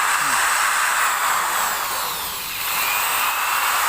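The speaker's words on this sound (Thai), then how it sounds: "หันมาใช้ แปรงลวดที่ใส่กับสว่านได้นะครับ" A power drill runs continuously with a harsh, broadband scraping hiss as a wire brush grinds rust off old engine parts, loud and close throughout.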